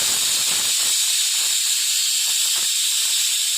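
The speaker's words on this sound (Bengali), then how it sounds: "তারপর প্রেশার কুকারে 3টে সিটি দেবেন" A pressure cooker on a gas stove lets off steam in a loud, continuous, bright hiss that holds steady throughout.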